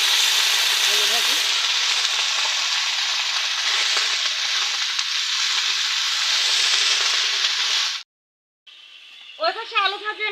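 Potato bhaji frying in a pan, a steady loud close sizzle that runs for several seconds before cutting off abruptly, with a voice speaking briefly afterward.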